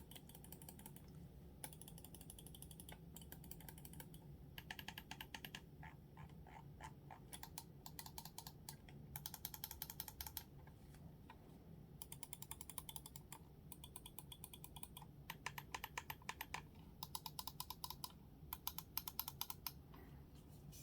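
Left and right clicks of a Scyrox V8 computer mouse, quiet crisp ticking in irregular rapid bursts separated by short pauses, close up, with nothing else audible.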